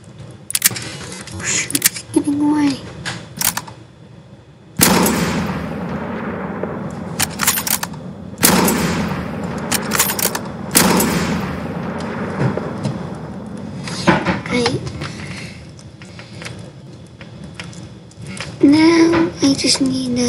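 Gunfire in a Minecraft World War II simulation game, with bursts of rapid shots and single cracks scattered through the clip, loud and close, mixed with game effects and brief gaps between volleys.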